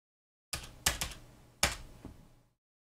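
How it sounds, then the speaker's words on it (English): Hard, angry keystrokes on a computer keyboard: a few sharp, separate clacks in quick succession, close and clear against silence. "Have you heard me angrily typing in numbers?"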